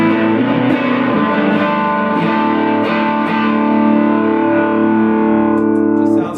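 An electric guitar through a Super Bolt overdrive pedal with its red remote switched on gives a dirty, distorted, sustained tone of strummed chords and riffs, loud and steady with no talk over it.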